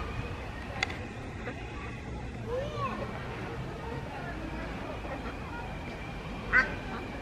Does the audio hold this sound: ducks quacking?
yes